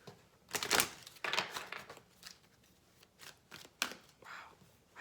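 Tarot cards being shuffled by hand in repeated riffling bursts of crisp papery flutter, close and fairly loud, separated by brief pauses with small taps and rustles in between.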